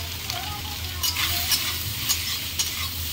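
Soybean chunks fry in a pan with salt and turmeric, a steady sizzle broken by several scraping stirs at irregular intervals, close and fairly loud, with no talking.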